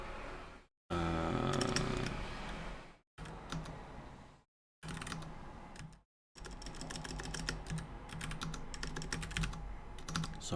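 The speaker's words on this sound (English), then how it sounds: "sorry for all the typing noises" Rapid clattering keystrokes on a computer keyboard come in several bursts broken by short silent cuts, sometimes dense and fast, sometimes sparse, with no speech.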